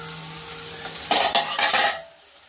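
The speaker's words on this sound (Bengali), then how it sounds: "আর এই যে কচুটা ভাজা হয়ে গেছে, একটু লাল করে তারপরে নামিয়ে নেব।" Taro frying in a pan with ghee and butter, a low sizzle joined by a quick burst of metal spoon scrapes and clinks against the pan, then fading quiet, with no talk.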